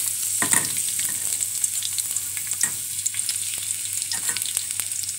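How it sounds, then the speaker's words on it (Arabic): Sliced onions frying in oil in a pot, a close, bright sizzle with bursts of stirring and spoon scrapes over a low steady hum, no speech. "هنقلب بقى البصل لغايه ما اتحمر كده"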